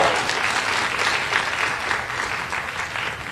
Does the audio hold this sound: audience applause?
yes